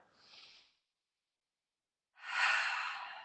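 Two slow, deep breaths during a seated yoga flow, a soft short exhale followed by silence and then a longer, louder breath close to the mic.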